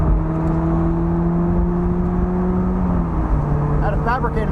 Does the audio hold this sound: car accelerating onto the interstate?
yes